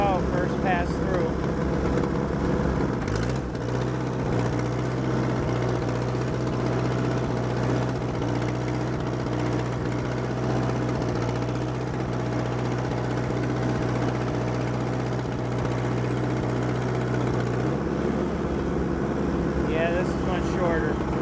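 An Allis D14 tractor plows a garden in fall, its engine a steady, close, low chugging hum that holds throughout with a brief dip near the start, while a person talks over it.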